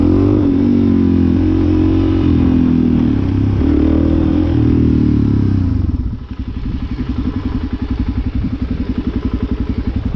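A newly bought motorcycle idling loud and close, its engine drone holding steady, then shifting after about six seconds into a lumpier, pulsing idle with rapid popping beats; no talk over it.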